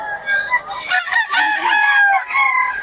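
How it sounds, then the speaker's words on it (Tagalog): Several chickens and roosters at a bustling poultry market in Bocaue cluck and crow loudly and close by, with overlapping calls filling the whole stretch. "Daming manok dito ngayon"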